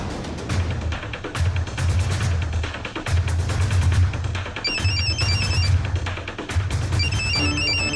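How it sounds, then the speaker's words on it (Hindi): A telephone rings in steady repeated bursts over a busy, noisy background, with brief electronic tones near the end. "मम्मी का फोन आ रहा है।"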